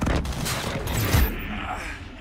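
Heavy aircraft gun-run fire in the video game Call of Duty: Infinite Warfare, a dense, loud roaring burst of rapid gunfire lasting about two seconds before trailing off.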